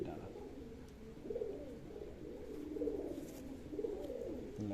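Soft, low cooing of pigeons close by, repeated rolling coos in a steady cycle over a faint background hiss, with no clear talk over them.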